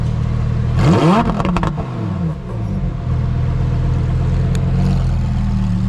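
A Ferrari on a Dubai street gives a loud, close rev that rises and falls in pitch near the start, then settles into a steady engine drone.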